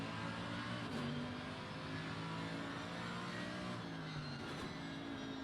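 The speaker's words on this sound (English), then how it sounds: "that Mercedes AMG, that sound, that engine" A Mercedes-AMG GT3 race car's engine in the Assetto Corsa Competizione racing game at Zandvoort holds a sustained, rising, harmonic howl through the gears, steady and fairly quiet, with no talk over it.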